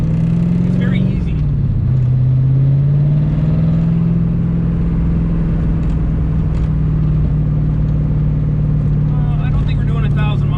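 A Daytona GT sports car engine drones steadily from inside the cabin with a loud, low, even hum after a brief shift, under ongoing road rumble, with people talking.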